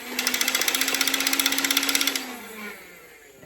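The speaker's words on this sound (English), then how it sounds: "the bottom one is your rev trigger, so which is to rev the blaster" A toy motor in an Adventure Force V-Twin foam blaster revs with a fast, pulsing, high whine for about two seconds, then winds down and fades.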